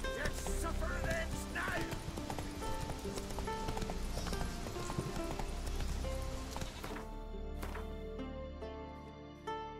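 A horse gallops in The Witcher 3 with steady, rapid hoofbeats under a dense game soundtrack, loud throughout before easing near the end.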